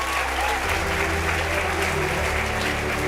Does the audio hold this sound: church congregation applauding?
yes